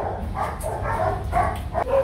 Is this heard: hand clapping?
no